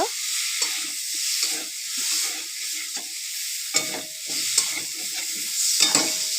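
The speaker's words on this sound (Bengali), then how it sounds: "দেখো মশলাটা ভালো কষানো হয়ে গেছে দেখতেই পাচ্ছ" A spoon scrapes and stirs ground masala paste sautéing in a pan for a home-cooked lunch, repeated stirring strokes over a steady, close sizzle with no talking.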